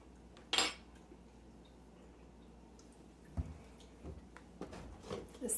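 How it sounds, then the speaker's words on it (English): A spoon clinks against a pot of chili being stirred and tasted, a sharp metallic tap early on, then quiet scraping, soft wet stirring sounds and a few small clatters, faint and close in an otherwise quiet kitchen. "While this is slowly heating, I'm going to grab a spoon and taste for seasonings."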